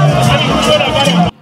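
A crowd presses in to warmly greet a visiting official, the Vice Prime Minister for Planning on an official mission in Tanganyika. A dense, steady babble of many voices fills the air and cuts off abruptly near the end.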